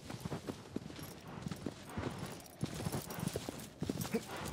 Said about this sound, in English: Stop slowing down, horse.